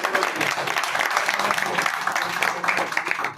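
Audience at a carrom club tournament prize distribution claps loudly and continuously, a dense close round of applause with a voice faintly mixed in.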